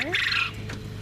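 Homestead poultry at their water container give a quick gobbling, squawky call that ends abruptly, close and fairly loud, followed by low background noise.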